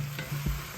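A quick scrape of a spoon through vegetables in a sizzling frying pan, a short burst of stirring over constant hiss, close and fairly loud.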